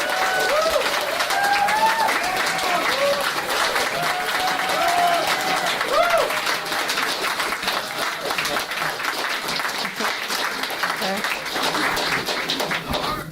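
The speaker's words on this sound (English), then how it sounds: "I would really, really like you to give a round of applause to all the committee" An audience at an art prize event gives a sustained round of applause for the organizing committee, loud continuous clapping with scattered cheers and voices underneath.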